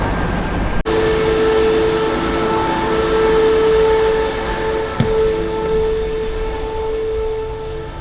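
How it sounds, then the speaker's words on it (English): Steady, loud rumble of a high-speed train running toward Toledo, Spain, heard from inside, with a sustained whining tone, a sharp click near the start and another brief knock midway. "That's our awesome high-speed train to Toledo."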